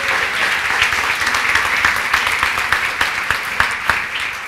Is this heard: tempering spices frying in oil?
no